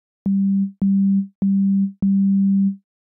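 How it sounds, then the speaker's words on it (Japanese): Four plain, pure sine wave tones from a HALion 6 synthesizer oscillator, each a smooth steady hum with a soft click at onset, repeated evenly with short gaps and no other sound. "デフォルトではオシレーター123ともにサイン波が選択されているので、"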